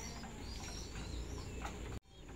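A pigeon hen coos softly in a loft over a dense, hissy background, and the sound cuts off abruptly near the end.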